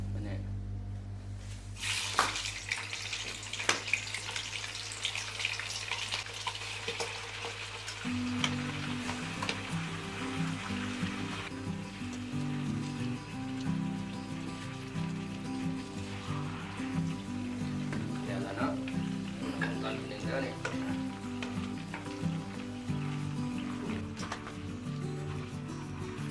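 Fish sizzles and fries in hot oil in a small pot for Lao fish and tofu curry, a steady crackling hiss running throughout with a constant low hum and some clattering underneath.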